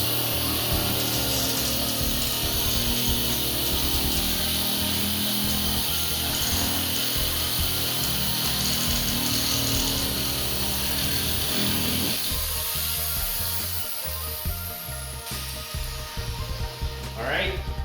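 A power cutting tool slices through Hardie backer cement board with a loud, continuous grinding whine that runs for most of the stretch, then thins out near the end; talk mixes in beneath the noise.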